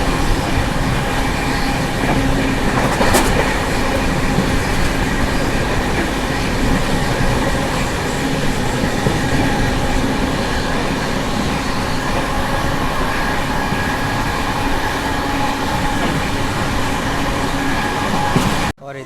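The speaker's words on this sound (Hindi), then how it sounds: "अब यहाँ से इलेक्ट्रिक पूरा सिंगल लाइन चलेगा पुणे तक" Sampark Kranti Express passenger train running on a single-line electric section, with a loud steady rumble of wheels on rails and rhythmic clatter throughout, then a sudden cutoff at the end.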